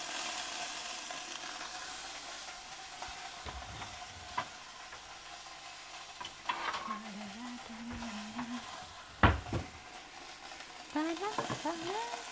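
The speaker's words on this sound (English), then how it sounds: "do you hear the sizzle?" Burgers fry quietly in a pan with a soft, steady sizzle and occasional stirring or scraping clatter, faint and close, while a voice hums or speaks briefly in the background.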